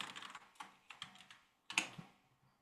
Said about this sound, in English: So I just did a lot of typing,